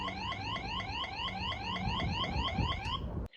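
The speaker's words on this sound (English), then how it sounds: "It has built-in sirens." A loud electronic siren built into a security camera whoops rapidly and repeatedly, rising sweeps in a steady fast rhythm, close by, then cuts off abruptly.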